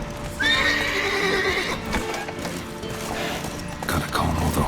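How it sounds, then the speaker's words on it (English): Horses in the video game The Witcher 3: Wild Hunt give a loud whinny early on, with clip-clopping hooves and thumping stable noises continuing afterward, fairly close. "Gotta calm all the horses before they wake the guards."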